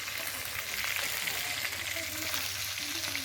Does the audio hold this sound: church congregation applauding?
no